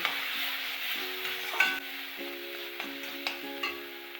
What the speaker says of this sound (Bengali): একটু নেড়ে চেড়ে নিয়ে নেব।